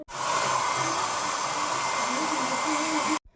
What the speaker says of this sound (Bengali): এখানে আমি চুলটা ড্রায়ার দিয়ে শুকিয়ে নেব